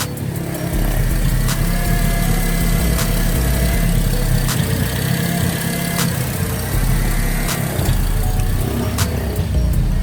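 A Honda car engine idles steadily and close by, a continuous low mechanical rumble with a slight rhythmic pulse and no speech over it.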